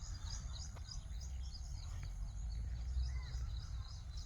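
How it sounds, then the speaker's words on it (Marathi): Faint, distant chirping of sparrows in a wooded area of Kudus over a low, steady outdoor rumble, the calls scattered and soft. "चिमण्यांचा आवाज सुंदर येतो आपण ऐकू शकतो"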